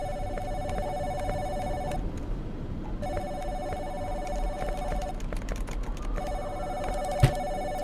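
In the horror video game Giraffe Town, a telephone rings in three repeated trilling bursts separated by short pauses, over a constant hum of background noise, with a faint click near the end.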